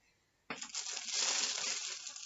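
Plastic bags crinkling close by, a sudden burst of crisp rustling that starts abruptly after a brief quiet moment and continues loudly to the end.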